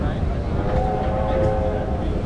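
Diesel-electric locomotive D3639, restored in teacup livery, shunts a freight train at the Newport railway workshops during an open day. A low, steady engine rumble carries a faint tonal hum, with no clear horn blast.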